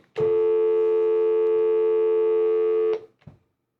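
A steady electronic telephone tone from a studio phone system during a radio call-in, loud and unbroken for about three seconds before cutting off, with a faint click after.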